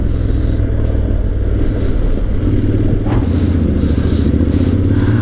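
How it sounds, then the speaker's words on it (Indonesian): Honda X-ADV 750 parallel-twin motorcycle engine accelerating, a loud continuous low rumble with rough, pulsing texture, close by and steady throughout. "motor ini 750cc, 2 silinder segaris, tapi suaranya seperti mesin V-twin"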